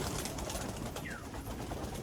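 Punjabi Malwai pigeons coo faintly beneath a dense, noisy background hiss, the low calls barely rising above the steady ambient wash.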